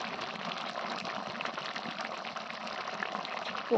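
Dal with pumpkin greens and pumpkin stems simmering in a pot, a steady soft bubbling and hiss that continues evenly at low volume throughout.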